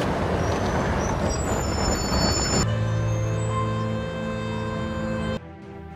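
A bus pulls in at a bus stop with a rumbling engine and a hissing air brake, followed by a steady idling drone that cuts off near the end, with no talk.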